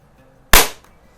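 A single sharp crack from a Beeman P17 or Webley Nemesis single-stroke pneumatic air pistol, close and loud with a quick decaying tail in an otherwise quiet setting.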